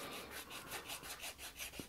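Fine 8000-grit sandpaper is rubbed back and forth over a surface while a HB SC 450 P90 GT is being overhauled, giving soft, steady, rhythmic scratchy strokes at close range with no talking.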